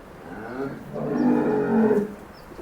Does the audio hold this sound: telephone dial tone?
no